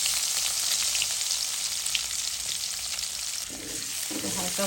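Panch phoron and chopped garlic fry in hot oil with a steady, dense sizzle, and near the end utensils scrape and stir in the pan.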